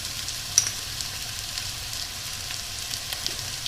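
Garlic and spices fry in a pan with a soft, continuous sizzle and a brief louder pop near the start, heard alone without talk.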